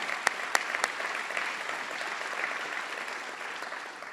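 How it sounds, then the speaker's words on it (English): An audience applauds at a community celebration of kindness event in Eugene, a few sharp nearby claps at the start followed by a steady, even wash of clapping that continues to the end. "I think they deserve our round of applause too."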